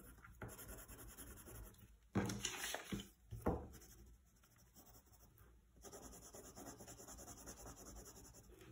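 A pencil colors in small squares on paper while a Minecraft hammer is drawn, giving soft, steady scratchy rubbing strokes with a couple of louder bursts in the middle, close and quiet, with no talk.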